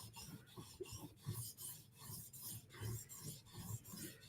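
A Koenig knife is drawn across an 800 grit whetstone in repeated rhythmic strokes, each a soft gritty scrape, close and quiet, with no talking.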